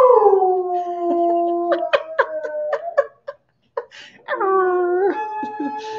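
A dog howls in long, wavering tones with a few short yips mid-way, a brief pause, then another sustained howl, close and loud.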